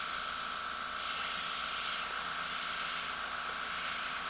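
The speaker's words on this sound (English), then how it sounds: "I'm not angling the airbrush to control the overspray." An airbrush sprays paint with a steady, loud, close hiss that holds almost unchanged for several seconds, rising and falling only slightly. No one speaks.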